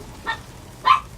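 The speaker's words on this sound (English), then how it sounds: "sorry about the dog" Two short dog barks, a moment apart, the second louder, heard alone from a dog somewhere in the room.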